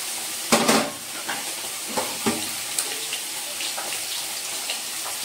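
Potato pieces dropped into hot oil seasoned with nigella seeds for a hilsa fish curry, a close bubbling sizzle with a few sharp clatters and splashes at the start, then steady frying throughout.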